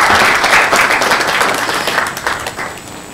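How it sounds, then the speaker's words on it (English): An audience at the AFRINIC 27 conference applauds a speaker taking the microphone, a close, dense burst of clapping that fades slightly over a few seconds. "A round of applause for her."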